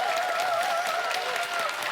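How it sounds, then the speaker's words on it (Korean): Audience applause at a civic talk show in Daejeon, a brief, moderately loud, steady patter of clapping hands from a seated crowd. "여러분 큰 박수 보내주십시오"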